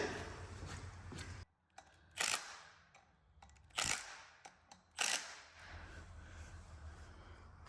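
Ratchet tightening a half-inch bolt during an engine swap: several sharp, separate clicks and mechanical clacks over low background noise, no talking.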